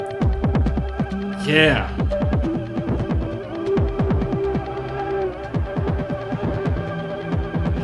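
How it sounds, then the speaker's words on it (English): A synth riser sweeps briefly upward within a thumping drum beat from a dawless hardware setup. The kicks and percussion repeat steadily, with a short spoken word near the end. "now let's see what this riser sounds like"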